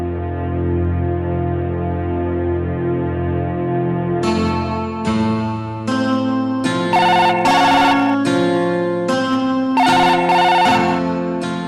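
A phone ringing while a call is placed to a woman's home, a loud repeating electronic ringtone melody of steady tones followed by rhythmic chiming pulses, alone without talk.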